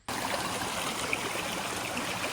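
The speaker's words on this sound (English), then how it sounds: "Not a bad creek to fill up at." A mountain creek near Mystic Lake rushes in a continuous, even hiss of flowing water, close by and steady throughout.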